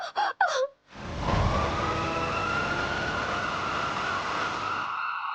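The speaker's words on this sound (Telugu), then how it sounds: "అంబులెన్స్ వచ్చింది." An ambulance siren arrives on a Telugu TV drama scene, blaring loud and steady for several seconds after a few brief spoken words, its wailing tone holding up close until the end.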